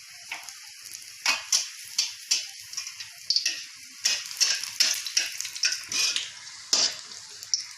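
Green chilli pakoras deep fry in hot oil, a faint steady bubbling crackle with many quick pops and spatters bursting out irregularly throughout.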